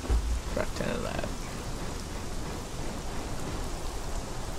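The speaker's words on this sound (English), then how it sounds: "It's raining again." Steady rain falls in the Conan Exiles game world, a constant wash of hiss and patter throughout, with a brief muffled voice near the start.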